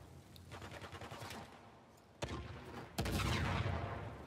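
Gunfire in the video game Uncharted: The Lost Legacy: a rattle of shots, then two sharp, loud blasts near the middle and end that ring out with dense noisy tails.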